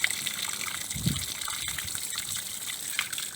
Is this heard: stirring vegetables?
no